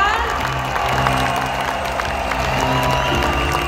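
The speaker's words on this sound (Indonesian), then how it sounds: "Saya boleh dengar tepuk tangannya sahabat-sahabat P3K," Audience applause rises at a government appointment ceremony for civil servants at Graha Unesa in East Java, a continuous crowd clapping over sustained music tones in a large hall.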